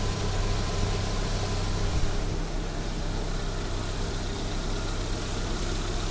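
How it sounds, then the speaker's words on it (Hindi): A Chevrolet Uva car idles smoothly and steadily after an oil leakage repair, an even low hum that stays close and continuous with no one speaking. "ये गाड़ी हमने स्टार्ट कर दी है"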